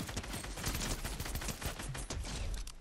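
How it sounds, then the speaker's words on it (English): Sustained bursts of gunfire in a Fortnite match, loud rapid shots crackling in quick succession for nearly three seconds, with no talking over it. "Where are we getting shot from?"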